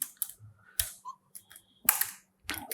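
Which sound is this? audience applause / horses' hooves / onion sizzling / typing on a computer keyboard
typing on a computer keyboard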